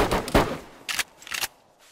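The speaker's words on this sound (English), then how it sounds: "He's trying to shoot me through the floor." Gunfire in DayZ, with a shooter firing up through a floor from below. Several muffled, mid-distance bursts of shots land in separate clusters, and nobody is talking.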